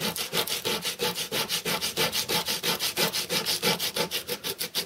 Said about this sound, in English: I'll take it back to my 150 grit sandpaper, and I'll just sand off these edges right here so it's not completely flat